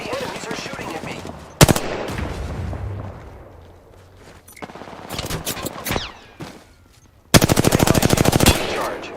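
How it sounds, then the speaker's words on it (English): Bursts of automatic gunfire from enemies in a shooter video game, with sharp rapid volleys near the start and a longer loud stuttering burst toward the end, plus softer game noise between. "The enemies are shooting at me."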